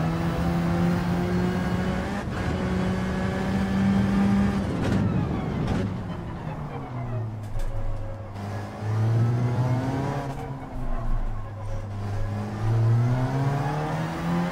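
A race car engine in Gran Turismo 7 on the Eiger Nordwand circuit revs loudly and steadily, rising and falling in pitch through gear changes as it spins up out of a corner, continuous and close with no talk.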